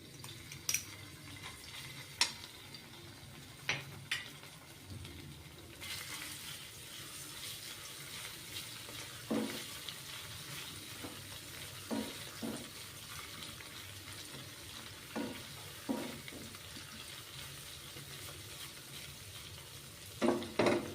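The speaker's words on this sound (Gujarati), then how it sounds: "તેલ ગરમ થઈ ગયું છે સૌ પ્રથમ આદુ અને મરચાંની પેસ્ટ છે તે એડ કરીશું" Ginger and green chili paste dropped into hot oil for a paneer paratha filling, giving a faint, steady sizzle with occasional soft clicks and clatters, no talk.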